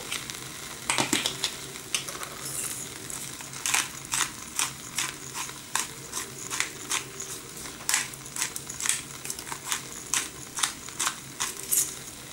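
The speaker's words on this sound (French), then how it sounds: "Voilà, on va remuer." Mushroom risotto being stirred in a Cookeo multicooker, with a spoon scraping and clicking against the pot in a fairly regular rhythm of sharp taps over a soft sizzle, close by and without talk.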